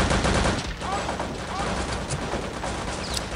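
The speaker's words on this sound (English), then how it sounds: "So, let's shoot up the place." Continuous loud gunfire in the video game Return to Castle Wolfenstein, with overlapping shots forming a dense, unbroken din throughout, close and harsh with faint voices mixed in.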